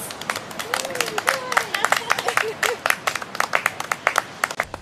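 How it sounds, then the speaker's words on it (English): Wedding guests at an outdoor ceremony applaud the boys with a burst of rapid clapping and a few cheering voices in the crowd, fairly close and lively. "So let's have a round of applause for the boys."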